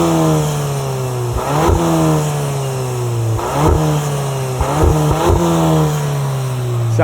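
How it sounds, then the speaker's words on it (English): A tuned 2022 VW GTI MK8 S with a 6-speed manual revs from idle several times, the engine note climbing and falling in sharp repeated blips, loud and close, with no talk over it. "Do you want me to rev it for you"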